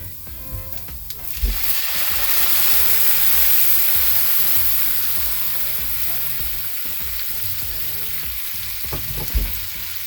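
White wine is poured into a pan of browning garlic for shrimp fettuccine Alfredo, bursting into a loud, steady sizzle that slowly settles, with occasional utensil knocks near the start and end.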